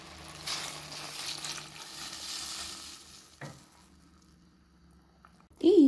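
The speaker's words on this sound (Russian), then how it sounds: "Добавляем сюда немного уже готового куриного бульона." Chicken broth goes into a pan of sliced zucchini, a sizzling hiss that fades into quieter simmering bubbles, with a soft clunk partway and a voice speaking at the end.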